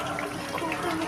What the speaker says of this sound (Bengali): আমি অল্প পরিমাণ কেওড়া জলটা দিচ্ছি